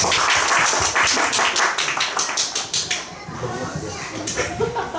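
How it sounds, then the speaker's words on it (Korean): Church congregation clapping their hands during worship, rhythmic repeated claps that start dense and loud and then thin out to scattered, softer claps toward the end. "네, 박수 한번 치고 가겠습니다."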